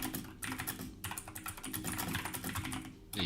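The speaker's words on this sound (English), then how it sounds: "Oh my god, the keyboard is loud." Fast, loud computer keyboard typing heard over a voice chat, a dense run of crisp clacks with brief pauses, close and alone without talk.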